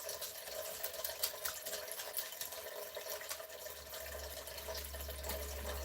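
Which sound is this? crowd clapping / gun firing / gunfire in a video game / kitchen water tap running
kitchen water tap running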